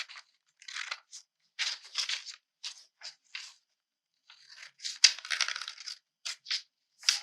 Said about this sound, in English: So go ahead and cut this out.